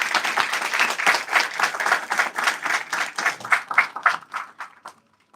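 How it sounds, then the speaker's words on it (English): An audience claps at a conference gathering, dense at first and then thinning into scattered individual claps that fade out over about five seconds. "Please, round of applause."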